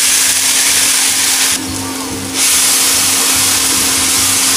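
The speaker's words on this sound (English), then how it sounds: "So now I'm going to put my onions in first, okay. I want to saute them" Onions going into a pan to sauté for pastitsio, a loud, continuous steamy hiss that briefly drops away for a moment before surging back.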